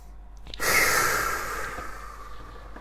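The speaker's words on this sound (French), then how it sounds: "Arrête tout ce que tu fais et respire avec moi." A single slow, audible breath drawn in and released during a guided breathing moment, close and soft with a hissy airy texture, no talking over it.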